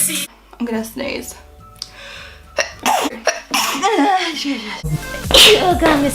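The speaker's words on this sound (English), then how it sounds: "Oh God, I'm gonna sneeze my eye off." A close, loud sneeze bursts out near the end after a stretch of breathy, halting vocal sounds and sniffles from a person indoors.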